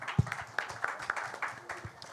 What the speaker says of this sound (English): A huge round of applause for him.